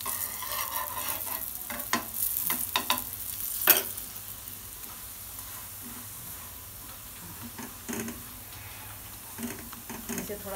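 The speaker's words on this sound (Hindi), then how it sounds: "अब हम दूसरी साइड की परत भी ऐसे ही सेक लेंगे" Layered laccha paratha roasts on a hot pan with ghee, a low sizzle broken by irregular scraping and pressing taps, with one louder clack early on.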